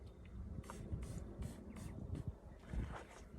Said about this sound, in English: And then just spray in the tail.